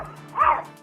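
A cat gives a single short, dog-like bark or yip, close and fairly loud, with no talking.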